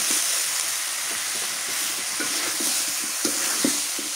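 Eggplant pieces fry in cooked-down spiced masala in a pan, a steady close hiss of sizzling oil with occasional soft scrapes and knocks of a stirring spoon.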